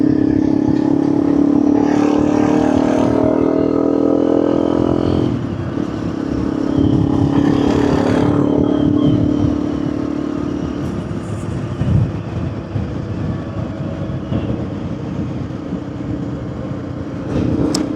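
A motorcycle rides along a road in Iceland, its engine droning loud and steady with wind rush, easing off and shifting in pitch partway through.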